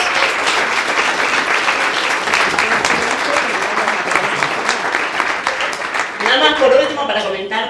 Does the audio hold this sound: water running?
no